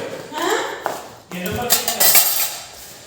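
Metal spoons are picked up one after another beside bowls, giving bright, close clinks and taps against each other, while a voice talks over them.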